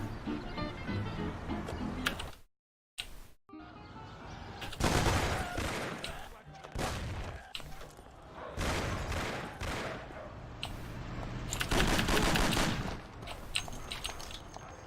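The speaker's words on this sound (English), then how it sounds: "he just shoots this guy to get his Thompson" Thompson submachine gun fire in the Mafia game, loud bursts of rapid shots in several clusters with a short silent gap early on, mixed with other game noise.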